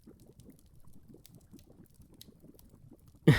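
A bubbling love potion is stirred, making a steady, close run of soft liquid blips and gurgles at low volume, ending in a sudden louder splash.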